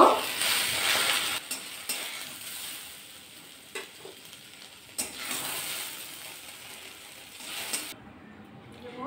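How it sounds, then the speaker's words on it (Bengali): Potatoes and okra (bhindi) frying in mustard oil in a kadai, a steady broadband sizzle with scraping stirs and clinks of a spatula against the pan, continuing for several seconds before cutting off near the end. "আলু আর ভেন্ডিটা অনেকটাই কিন্তু ভাজা করে নিয়েছি, আর একটু ভাজা করে নেব।"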